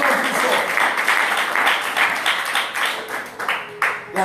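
A church congregation at a glory conference applauding and cheering for the Lord, loud sustained rhythmic clapping mixed with shouting voices, dense and close throughout.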